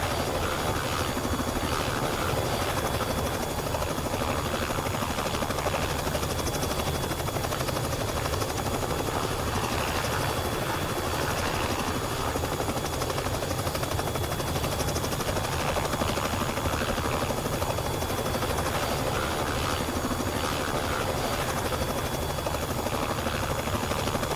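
A loud, steady Robinson R66 helicopter engine and rotor drone from X-Plane 11 runs unbroken throughout, dense and rumbling with no pauses.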